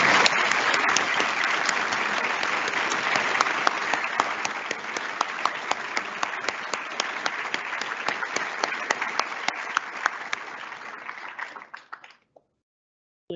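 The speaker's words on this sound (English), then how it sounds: "why not give yourselves another round of applause?" Audience applause at a white coat ceremony for foundation year, graduate-entry medicine, pharmacy and physiotherapy students, sustained dense clapping with sharp individual claps that fades and stops abruptly near the end.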